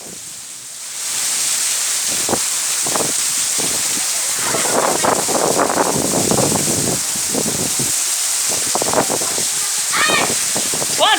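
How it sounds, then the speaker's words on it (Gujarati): Heavy rain pours steadily with strong wind in a village during a storm, a dense continuous roar throughout, while someone talks over it and birds chirp near the end. "કેટલા વીજળીના ચમકારા સાથે વરસાદ પડી રહ્યો છે મિત્રો"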